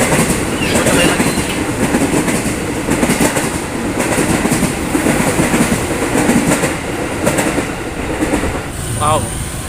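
A commuter train rolls past near Kalibata City apartments in Jakarta, a loud continuous rumble with rhythmic wheel clatter filling the whole stretch, and a brief horn-like tone near the end.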